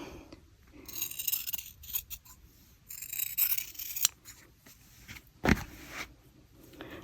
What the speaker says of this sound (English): So it's simply just as easy as this, cutting up the steek.